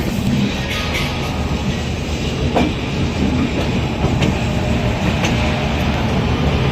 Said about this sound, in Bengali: আর ভাই একটা ট্রেন ঢুকছে